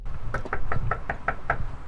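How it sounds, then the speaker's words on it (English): Knuckles rap on a business door at Star Athletics: about eight quick, evenly spaced knocks, close and crisp, with nothing else heard. "When I knocked at Star Athletics"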